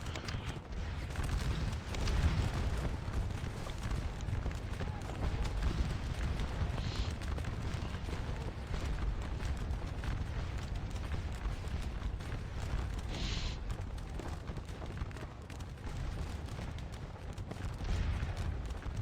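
Napoleonic battle in the Scourge of War Waterloo game: French cavalry hooves and scattered musket fire over a steady, dense rumble of distant battlefield noise that runs throughout.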